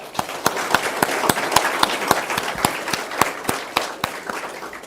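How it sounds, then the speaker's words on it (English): Audience applause at an international snakebite symposium, a dense patter of many hands clapping steadily and fairly close for several seconds, with no talk over it. "we will give a round of applause at this point"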